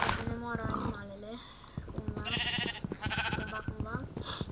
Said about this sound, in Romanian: Încă oaie! Sunt 3 oi!